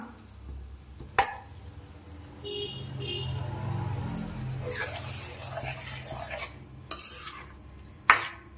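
Cooked moong dal is stirred into payasam in a pan, with soft scraping and stirring under a low simmer, punctuated by a few sharp clinks of a spoon against the pan.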